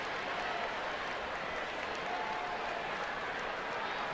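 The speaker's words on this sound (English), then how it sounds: "Nice applause." A baseball stadium crowd at a San Diego at San Francisco game applauds in a broad, steady wash of clapping heard from a distance, with a faint voice underneath.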